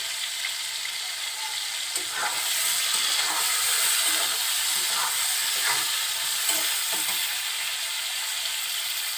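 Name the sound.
prawns stir-fried in oil with salt and turmeric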